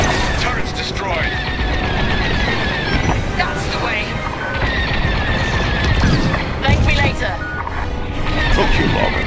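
Dense space-combat blasts and rapid laser fire as a turret is destroyed under heavy attack in Star Wars: Squadrons, a loud continuous barrage with booming impacts, while a voice talks over it.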